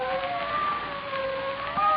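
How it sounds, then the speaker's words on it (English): A wailing police siren in an old-time radio drama, with slowly rising and falling tones, sounds steadily at moderate distance, with no talking over it. "I said sirens. That's how I knew the police were"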